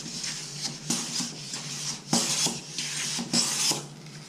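An HNT Gordon wooden jack plane shaves wood in a series of crisp rasping strokes, about six or seven close swishes in an even rhythm with short pauses between.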